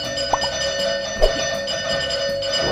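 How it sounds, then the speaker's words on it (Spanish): A sustained electronic bell tone rings steadily throughout, with a couple of faint knocks or clicks near the start and middle. "me vas a dañar el timbre"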